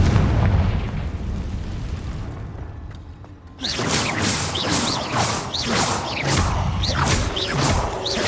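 Confringo fire-blast spells explode in the Hogwarts Legacy game: a loud rumbling blast fades, then after a brief dip a fresh burst of crackling, booming explosions erupts and keeps going.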